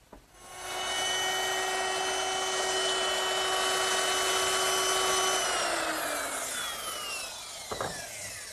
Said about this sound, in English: Now I'll move my clamp, and then simply take my router and finish the dado.